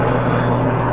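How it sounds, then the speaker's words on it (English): A helicopter drones overhead as a steady, fairly loud engine and rotor hum, with a low tonal buzz holding constant through the moment and no talking. "Am I showing you the helicopter?"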